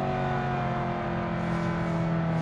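Steady, loud drone of the flat-plane crank V8 in a Ferrari 308 GTB Group B rally car, held at a constant high pitch from close by with no speech over it.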